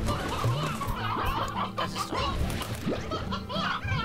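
Chickens in the video game Slime Rancher cluck and squawk in short, busy bursts amid lively game sounds, with faint laughter mixed in.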